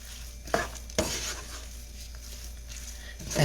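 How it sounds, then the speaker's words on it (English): Sautéed portobello mushrooms, garlic and spaghetti squash get stirred in a pan over a soft sizzle, with a couple of sharp utensil scrapes and knocks, close and without talking. "I'm just going to go ahead and stir this up."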